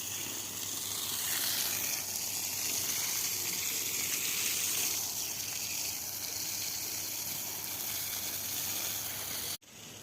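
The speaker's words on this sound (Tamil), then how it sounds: "இப்படி மண்ணோட மேல் பக்கம் மட்டும் பார்த்திங்கன்னா அப்படியே லேசாக நனைச்சிட்றோம்" Water sprays steadily onto building-site soil to lightly wet the ground surface before termite treatment, a loud continuous hissing gush that cuts off abruptly near the end.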